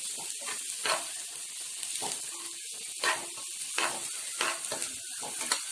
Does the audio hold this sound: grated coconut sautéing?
yes